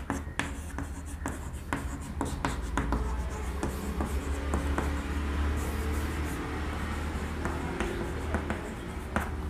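Marker or chalk taps and scrapes across a board as an equation of motion is written, a close run of irregular strokes and clicks with no talking.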